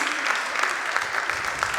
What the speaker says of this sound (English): Please keep the clapping and the applause going.